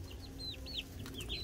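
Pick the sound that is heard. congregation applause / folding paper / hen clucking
hen clucking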